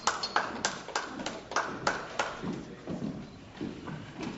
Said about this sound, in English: So we had an agreement about not clapping.